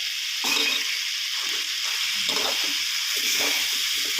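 Chicken red curry paste stir-frying in a pan with pickled bamboo shoots, a steady loud sizzle broken by repeated scraping stirs of the spatula, with no voices.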